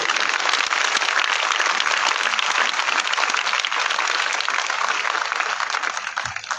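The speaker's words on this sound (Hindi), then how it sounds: "आइए यीशु के लिए ताली बजाएंगे दोस्तों" A church congregation applauds together during a worship service, dense sustained clapping that holds steady for several seconds and then eases slightly at the end, with no speech over it.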